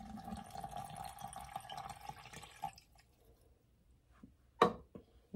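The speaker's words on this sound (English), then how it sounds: "I'm going to put 4 cups of cold filtered water" Cold filtered water poured over coffee grounds, a steady close trickle for a few seconds that thins to scattered drips, with a sharp knock near the end.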